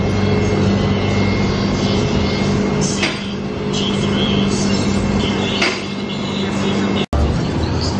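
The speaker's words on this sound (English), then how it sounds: "She's going up on the lift" Car rising on a vehicle lift in a repair shop, a loud continuous motor whine and hum with a few metallic clinks, cutting off abruptly near the end; no talking.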